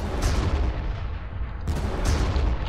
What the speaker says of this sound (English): we're gonna drop some artillery on him